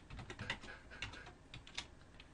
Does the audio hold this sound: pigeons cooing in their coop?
no